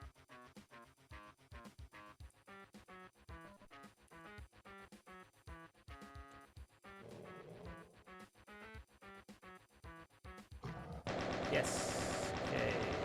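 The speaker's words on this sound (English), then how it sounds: "You just walked right into my gunfire there." Rapid gunfire in the video game Ultimate Doom, a fast rhythmic burst of shots that plays over game music and ends in a loud, harsh blast of noise.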